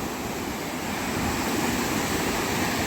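A fast river current near Chaulabhaja in Simlipal, Odisha, rushes as a steady broadband roar, moderately loud and continuous without talk, like surging water or waves close by.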